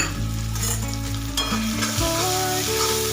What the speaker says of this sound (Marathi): त्या मसाल्याला पण व्यवस्थित मिक्स करून घ्यायचं